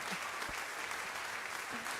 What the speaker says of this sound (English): Can you hold your applause, guys?